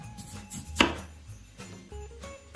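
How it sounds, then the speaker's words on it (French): A knife cuts the core from a peeled kohlrabi, giving one sharp, close crunching chop amid quieter kitchen handling and faint background tones. "On découpe le petit trognon là."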